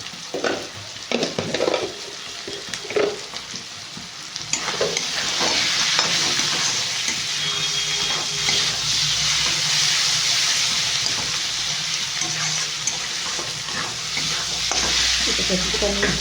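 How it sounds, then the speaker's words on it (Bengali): Chicken singara filling, a sweet-sour-spicy spiced mix with a little sugar, sizzles and fries in a pan, with scraping stirs at first, then a steady, close, continuous hiss of frying. "পুরটা কষানো হয়ে গেছে বন্ধুরা, এটা কষানো হয়ে গেছে।"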